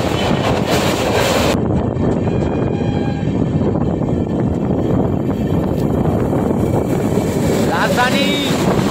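Wind roaring past a fast-moving train crossing Bally Bridge near Kolkata, a loud, constant rushing blast with rumbling wheels underneath and a few faint higher squeals.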